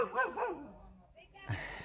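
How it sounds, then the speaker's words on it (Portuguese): A dog barks a few quick times close by at the start, then a short yip follows, with a person speaking nearby in a veterinary clinic waiting area. "Cachorro safado."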